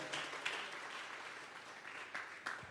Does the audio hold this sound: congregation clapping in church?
yes